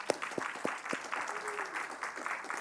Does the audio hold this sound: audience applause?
yes